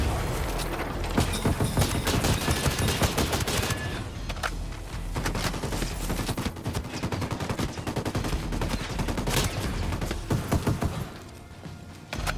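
Loud, dense gunfire from the video game Tom Clancy's Ghost Recon Breakpoint, rapid shots and bursts running almost continuously for about twelve seconds with little pause.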